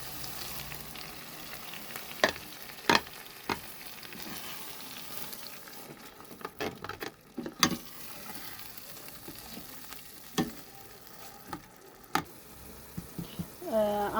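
Tomatoes fry in oil for an Ethiopian soya dish with a soft, steady sizzle, broken by sharp utensil clicks and knocks against the pan at irregular moments, heard up close and fairly quietly.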